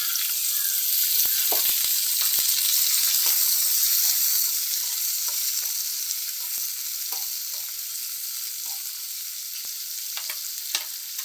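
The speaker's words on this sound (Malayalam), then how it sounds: "ഒരു സവാളയും ഒരു 100 ഗ്രാം ചെറിയ ഉള്ളിയും കൂടി നല്ല വൃത്തിയാക്കിയത് അരിഞ്ഞിട്ട് നമുക്ക് നന്നായിട്ടൊന്ന് വഴറ്റണം." Onion and shallots sauté in hot oil for a prawn and green peas curry, a steady close sizzle with scattered clicks and scrapes of a spatula stirring, fading slightly toward the end, with no talk.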